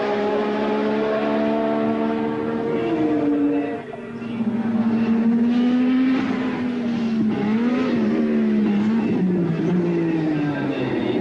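A turbocharged Formula 1 race car engine pushing through a quick lap, a loud sustained high-pitched howl that rises and falls with gear changes and throttle, with a brief dip in the middle, close and alone.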